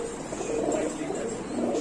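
Satin pigeons cooing in a loft, a soft low murmuring coo that carries on steadily over faint background noise, with no talking.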